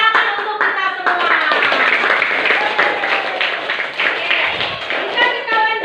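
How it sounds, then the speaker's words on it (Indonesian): Classroom of primary school children clapping hands together in a steady burst, mixed with young voices chattering and calling out over the claps throughout. "Terima kasih tepuk tangan untuk kita semua"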